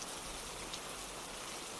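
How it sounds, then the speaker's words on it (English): Rain falling as a soft, steady hiss of drops, even and unbroken throughout, fairly quiet and distant-sounding with no voices. "The rain is starting to clear out."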